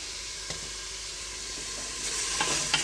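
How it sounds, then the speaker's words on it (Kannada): Tomatoes frying with salt in a pan for paneer biryani, a soft steady sizzle with a few light stirring taps, rising slightly near the end, no voices. "ಇವಾಗ ಟೊಮೊಟೊನ ಒಂದು ಸ್ವಲ್ಪ ಸಾಫ್ಟ್ ಆಗೋವರೆಗೂ ಫ್ರೈ ಮಾಡ್ಕೊಳ್ತೀನಿ"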